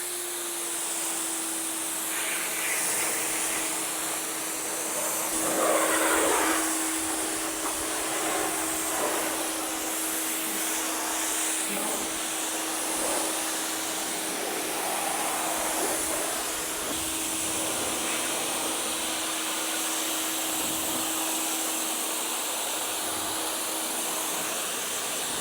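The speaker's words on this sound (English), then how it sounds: "So we've just rinsed off our Decon soap" Steady broadband hiss of a water spray rinsing Decon soap off a car, continuous for the whole stretch with a faint constant hum underneath and no talking.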